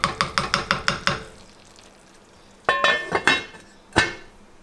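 A metal lid and pot clink during chicken jambalaya cooking: a rapid series of about seven metallic taps, then after a pause a cluster of louder clanks and one final ringing knock.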